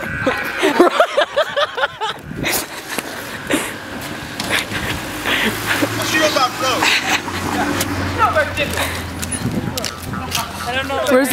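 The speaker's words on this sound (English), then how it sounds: "There's a car coming." People talk over road noise as a car approaches and rolls past, its engine hum rising briefly under the voices.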